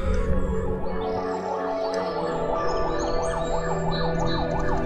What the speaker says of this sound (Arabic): اخيرا الاسعاف.